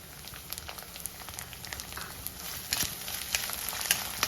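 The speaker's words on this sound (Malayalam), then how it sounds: "കൊച്ചുള്ളി കൂടെ അതിനകത്ത് ഇട്ട് കൊടുക്കുക" Coconut pieces and small onions for kalathappam fry in hot oil, giving a steady close sizzle with crackles and pops that grow slightly busier toward the end. No voices are heard.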